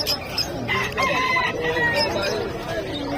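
Chickens and a rooster at the Bocaue pet market, a bird market in the Philippines: busy clucking and a drawn-out crow over a dense crowd of voices and market bustle.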